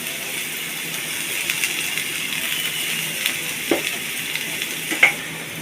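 Chopped onion and garlic with ginger paste frying in oil in a pan, a steady close sizzle with occasional stirring clinks and scrapes, no talking.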